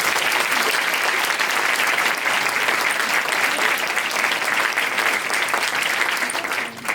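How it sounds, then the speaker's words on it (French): An audience applauds at an evening stage show in Charleroi, producing steady, dense clapping that fills the room for the full stretch and fades slightly at the end. "je voudrais vraiment qu'on fasse un applaudissement ce soir"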